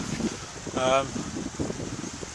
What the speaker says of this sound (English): It's quite windy up here, and it's raining a fair bit.